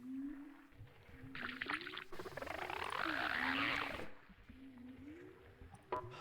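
Frogs croaking during a fishing scene in a video game, a faint warbling croak repeating over a quiet ambient background, with a brighter swelling tone in the middle and no talking.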